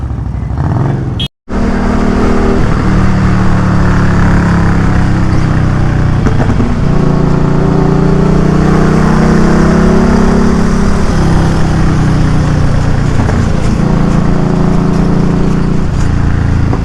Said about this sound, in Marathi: गाडी स्टार्ट केलेली आहे आपण एकदम मस्त साऊंड आहे आफ्टर मार्केट एक्झॉस्ट